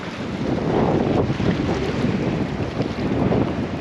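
High wind buffets a fishing pier by the shore, a loud continuous rushing roar over the water with waves churning beneath and no voices.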